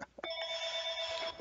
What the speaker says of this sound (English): And of course, I'm going to get a phone call.